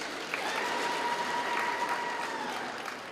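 Audience applause during a regional address in Kavango West, a steady moderate wash of clapping from a crowd that holds evenly for a few seconds.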